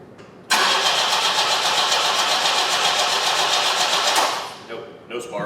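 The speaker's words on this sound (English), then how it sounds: "Okay, crank it again." A 1973 Opel Ascona abandoned for years and with no spark cranks without starting, a loud steady rhythmic starter whir lasting about four seconds before cutting off, close to the engine, with people talking faintly around it.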